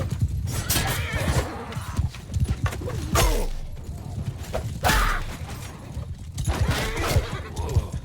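Horses in Mount & Blade 2: Bannerlord gallop and neigh loudly, with rapid clip-clopping hooves and several sharp whinnies rising over the running beat.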